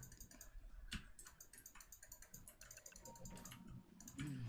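Computer keyboard keys click and clatter in quick, uneven bursts throughout, fairly close and moderately loud, with no talking over them.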